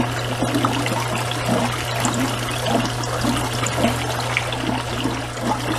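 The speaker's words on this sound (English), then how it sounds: "So this is a tiny drip siphon" A tiny drip siphon trickles a thin stream of water into a small aquaponics fish tank, a steady continuous splash with a low hum behind it.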